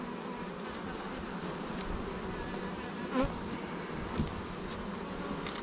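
Feral honey bees buzz around a hive in the afternoon, a steady drone with individual bees flying close past now and then, light wind in the background.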